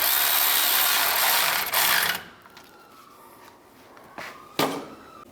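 Ratchet wrench snugging down bolts on the cooling fan assembly of a 1997-2001 Honda CR-V, a dense burst of rapid clicking followed by a few short, isolated ratchet clicks.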